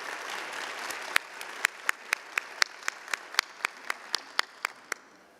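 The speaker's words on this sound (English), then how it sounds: "Let's give her a round of applause as she comes." An audience at a swearing-in ceremony applauds in a fairly quiet, distant wash of clapping, with some individual claps standing out sharply.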